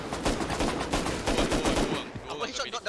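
Dense, loud gunfire fills a Rust PvP fight, with rapid overlapping shots blurring together for about two seconds before thinning out. Voices are heard over the shooting.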